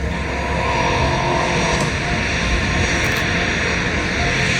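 An F-15 fighter jet on an afterburner fly-by at an airshow fills the clip with loud, broadband roaring thunder, steady and close, with no voices.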